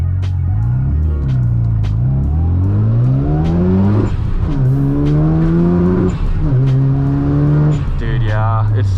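A Honda VTEC car launches on a drag strip in the rain, its engine droning in repeated rising pulls that stutter and cut as it bounces off the boost cut, loud and close, with a few sharp pops.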